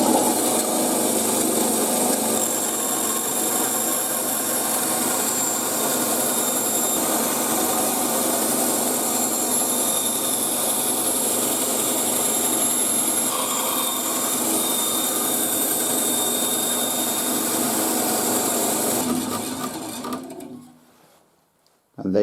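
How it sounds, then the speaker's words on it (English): A bandsaw cuts a section out of a piece of wood, a long steady close whine with a rasping blade edge that runs for about twenty seconds before winding down and stopping. "You can do that with any hand tool, any saw, a jigsaw, or in my case I do it with the bandsaw"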